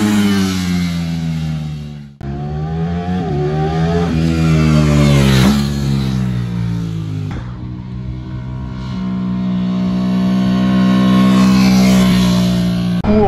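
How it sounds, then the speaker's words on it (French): A Ducati Streetfighter V4 motorcycle on a track accelerating hard from a standstill to 250 km/h, loud and close, its engine note climbing through the gears with sharp breaks at each shift. "un petit 0 à 250 avec cette magnifique Street Rider à la piste de la barre"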